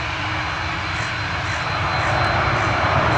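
A Ryanair jet at Manchester Airport gives a steady, loud broadband engine roar that holds unbroken and builds slightly toward the end, with no voices over it.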